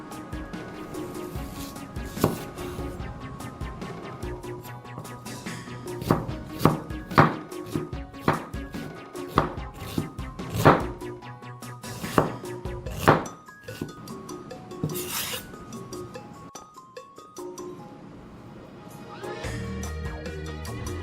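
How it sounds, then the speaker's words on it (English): A big onion is chopped with a knife on a cutting board for a home-made dal curry, giving a series of sharp, close knocks at an uneven pace, with some quick bursts and short pauses in between. "1 big onion chopped."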